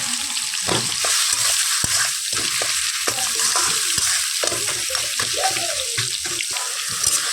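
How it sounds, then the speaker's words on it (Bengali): A fish head frying in spices in a pan, with a steady sizzle broken by repeated scraping and stirring strokes of a utensil. "ভালো করে ভেজে দিচ্ছি। মাছের মাথাটা যাতে মশলা ঢুকবে না এর মধ্যে।"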